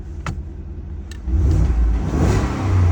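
Two small clicks come first, then a car engine revs up strongly through a Veigel hand-control throttle, a loud, close, rising roar that holds through the end.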